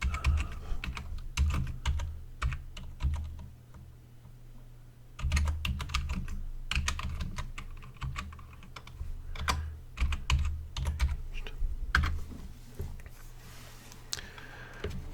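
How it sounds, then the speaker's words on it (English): Rapid clattering keystrokes on a computer keyboard, close and steady, with a short pause before the typing resumes in uneven bursts. "I'm going to Google this because it's a fun typing sound."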